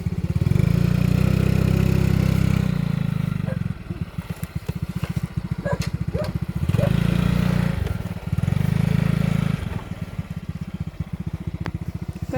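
A motorcycle engine runs up close, its loud low rumble steady at first, then breaking into a rough idling clatter, surging twice more before dropping back to a choppy idle.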